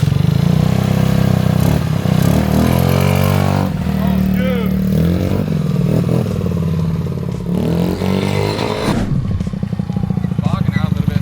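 A 50cc scooter engine on a test ride after a CVT rebuild, buzzing and revving up and down close by with clattering and wind rush, continuous for several seconds.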